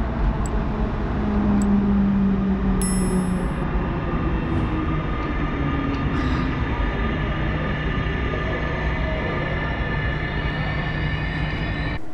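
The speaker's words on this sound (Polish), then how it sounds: "Wjazd drugiej części tego pociągu." The second part of a Polish IC Grottger intercity train pulls in, a loud continuous rumble of wheels and carriages rolling close by, with a few brief metallic squeals early on and steady noise throughout.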